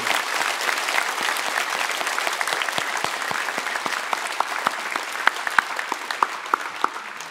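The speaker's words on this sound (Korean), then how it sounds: "우리 새로 오신 초청받으신 분들을 우리 한 번 더 뜨거운 박수로 환영하십시다." A church congregation gives warm, sustained applause to welcome newcomers during a sermon, with steady, dense clapping and a few sharper individual claps standing out toward the end.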